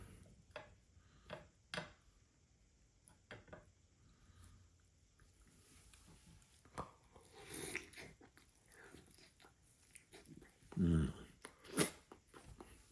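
Salt and pepper ribs are bitten and chewed up close, with soft crunching and wet chewing that builds to louder bites near the end, and a faint voice now and then.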